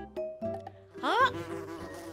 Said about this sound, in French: C'est une abeille!